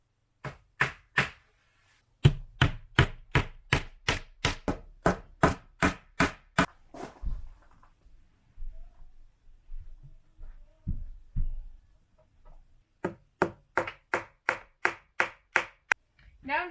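Finishing nails are hammered to fix plywood down, with sharp evenly spaced hammer strikes in quick runs, a pause with faint rustling, then another rapid series of close, loud blows.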